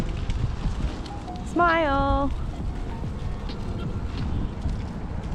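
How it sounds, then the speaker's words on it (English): Steady wind rumbles and buffets a microphone throughout, with a brief voice speaking and a short high tonal whistle partway through. "it's very windy today, so you probably hear all the wind"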